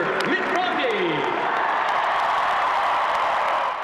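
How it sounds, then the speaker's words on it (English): A nostalgic crowd at a Stars on Ice show celebrating the 2002 Winter Games cheers and applauds in a sustained, dense roar, loud and continuous, with a voice briefly speaking over the start. "to the cheers of a nostalgic crowd reliving the glory of the 2002 Winter Games"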